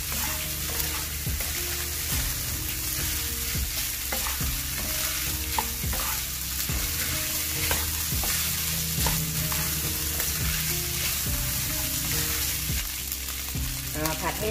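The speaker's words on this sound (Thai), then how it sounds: "Stir fry until mixed together." Green curry fried rice stir-fried up close, with a steady sizzle under repeated spatula scrapes and clacks against the pan. The stirring runs continuously throughout, with no voices.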